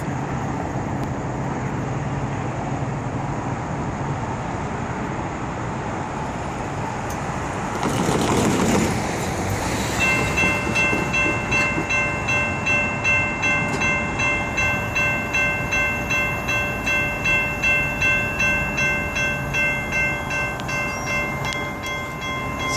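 A CSX freight train rumbles past close by at a South Florida Rail Corridor crossing, with a loud horn sounding in long sustained blasts and rhythmic clacking of wheels over rail joints.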